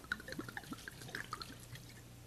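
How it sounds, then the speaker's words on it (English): Red wine glugs into a cooking pot in a series of soft, irregular gurgling pours with faint drips, heard fairly quietly and up close. "And now we want 2 cups of red wine. Just pour it right in there."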